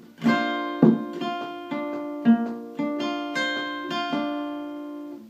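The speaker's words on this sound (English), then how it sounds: "and then you do sort of a arpeggio style, so it sounds like this" Guitar chords arpeggiated one note at a time, each pluck ringing into the next in a steady rolling pattern, with a few sharper strikes on the strings.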